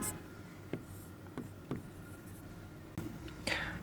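A pen writes an example sentence during an English class, soft scratchy strokes with a few sharper taps, faint and close against a quiet room background.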